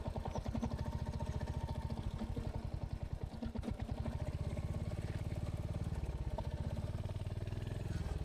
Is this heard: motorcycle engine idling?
yes